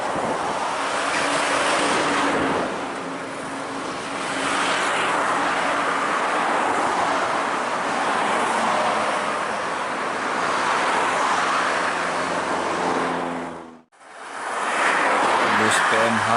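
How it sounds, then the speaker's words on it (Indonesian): Passenger buses, including PMH Gracia and PT Rapi coaches on a Medan–Jakarta route, race each other down a straight road, their loud engines roaring steadily close by with tyre and traffic noise before a brief drop and return. "Bus PMH Gracia jos ini kejar-kejaran bus PT Rapi, mantap."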